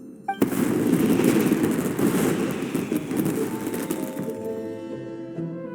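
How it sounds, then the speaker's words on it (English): Fireworks bursting in a Genshin Impact festival scene, a dense, continuous crackle and pop of explosions sustained for several seconds before thinning out as a soft musical tone rises. "Yoimiya, this is turning into a bit of a fireworks display"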